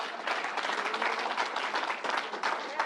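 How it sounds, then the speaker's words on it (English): A crowd at the New York State Fairgrounds applauds after a speech, a dense, even wash of clapping that lasts the whole stretch at moderate volume. "Let's give the Reverend another round of applause."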